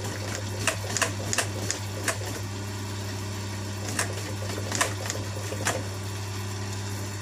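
A domestic sewing machine topstitching with a special topstitching presser foot runs at a slow, steady pace, a continuous low motor hum with light rhythmic ticking and a few sharper clicks, close up with no talk.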